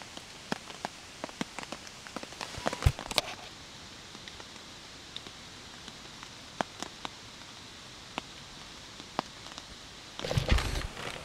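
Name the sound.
rain falling on a tent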